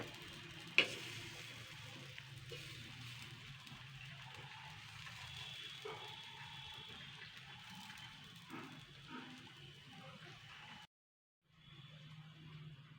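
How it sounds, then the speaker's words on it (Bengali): Boiled potato and gram flour breakfast fries in a pan, a soft steady sizzle with light stirring and a clack as the pieces are flipped, quiet throughout before a brief silence and the frying resumes. "আমি দুই মিনিট দুই মিনিট চার মিনিট করে করে করে ভেজে নেবো মানে এপিট ওপিট করে"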